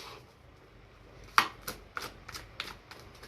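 A deck of oracle cards is shuffled by hand, giving a series of crisp riffling and slapping bursts close to the microphone, starting with one sharp snap and continuing in quicker, softer flurries.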